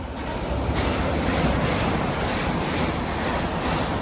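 A train rushes past at high speed near a railway station, a loud continuous roar with rattling wagon noise, steady throughout and with no talk over it.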